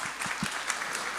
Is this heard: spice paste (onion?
no